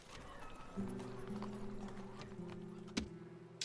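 Horse hooves in the strategy video game Imperium Surrectum, a short clip-clop of galloping over a steady low musical drone, with one sharp louder hit near the end and no talk.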